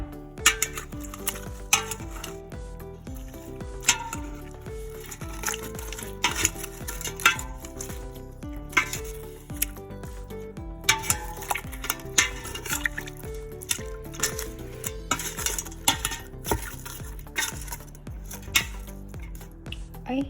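Pork intestine and ground annatto are stirred together in a bowl, making clinks, scrapes and wet knocks in an irregular rhythm that stay close and fairly loud, with no voices.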